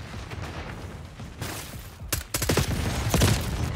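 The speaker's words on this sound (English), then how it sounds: "Oh, of course, we're getting shot in the back." Gunfire in a shooter video game: a busy stretch of shots that picks up and grows louder in the second half, with several sharp cracks clustered near the end.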